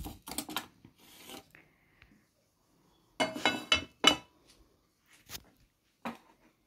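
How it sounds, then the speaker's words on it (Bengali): White mustard, fenugreek, cumin, coriander, black pepper and nigella seeds stirred in a dry pan, giving scattered bursts of rasping, rattling scrapes with quiet gaps between them. "সাদা সর্ষে, মেথি, জিরে, ধনে, কালো মরিচ আর কালো জিরে এগুলোকে শুকনো খোলায় নেড়ে নিচ্ছি একবার।"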